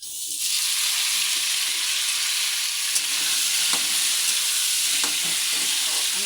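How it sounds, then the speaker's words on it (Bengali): Prawns hit a pan of onions fried until reddish-brown, setting off a loud, steady broadband sizzle that runs throughout, with a few faint spoon scrapes and clicks from stirring close by and no voices. "এই দেখুন পেঁয়াজটা লাল লাল করে ভেজে নিয়েছি। এবার চিংড়ি মাছটা দিয়ে দেবো।"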